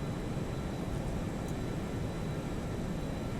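Boeing 737-200 jet engines at takeoff power in the X-Plane 11 flight simulator, a dense, steady roar with a broad hiss that holds at a constant level throughout, with no talking.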